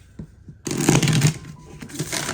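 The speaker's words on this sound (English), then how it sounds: "Let's go ahead and shuffle." Tarot cards being riffled and shuffled close by, a quiet start giving way to a dense, papery flutter that rises, eases, then picks up again.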